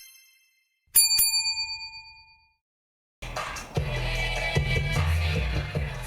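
A bright bell dings twice in quick succession, ringing out and fading over a couple of seconds, followed by music starting up.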